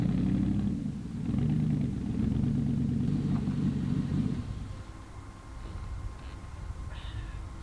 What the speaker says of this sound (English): That's definitely diesel.